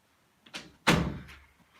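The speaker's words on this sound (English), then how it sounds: "Let me close the door because it's about to get loud." A door being closed: a light rattle of the handle, then a single solid thud close by, fading quickly into quiet.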